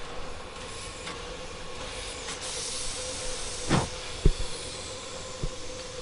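A steam train hisses in an Agatha Christie Murder on the Orient Express video game, a continuous soft hiss with rail ambience beneath, punctuated by a louder steam burst and a few sharp metallic knocks near the end.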